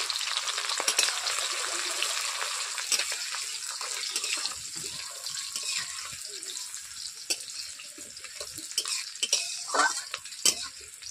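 Whole cumin, garam masala, chopped onion and slit green chillies fry in hot oil for a fish curry, giving a steady close sizzle with occasional utensil clinks and stirring scrapes and no speech.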